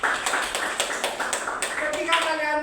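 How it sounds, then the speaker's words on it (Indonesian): Students in a school guidance class clap for their classmates. Rhythmic, evenly spaced claps sound fairly close for a couple of seconds, with a voice talking over the end. "tepuk tangan dulu teman-temannya"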